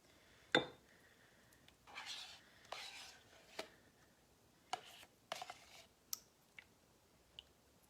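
Sour cream being mixed into banana bread batter in a bowl: scattered clinks, scrapes and taps of a utensil against the bowl, close and intermittent, with brief rubbing strokes between sharper knocks and no talking.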